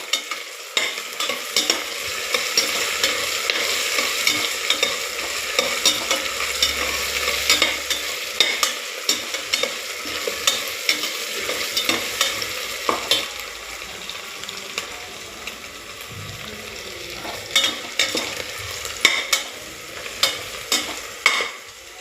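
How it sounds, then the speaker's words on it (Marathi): Ginger garlic paste sautéing with onions in a home kitchen pan for masala rice, a steady close sizzle and crackle with frequent stirring scrapes and clinks throughout, no talking. "आता आपण त्याच्यामध्ये आलं लसूणची पेस्ट टाकूया. ती छान परतवून घ्यायची."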